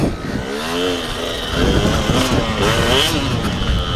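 A KTM 125 motocross two-stroke engine warming up nearby, a loud steady buzzing idle with slight rises in revs, heard alone throughout.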